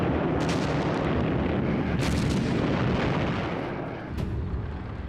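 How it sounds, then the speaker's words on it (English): A savage Soviet artillery bombardment of German positions in World War II, a sustained roaring barrage with sharp blasts breaking through around the two-second and four-second marks. "The attack on the German positions started with a savage 65-minute bombardment."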